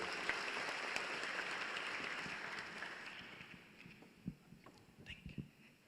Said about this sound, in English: Please give her a round of applause, please.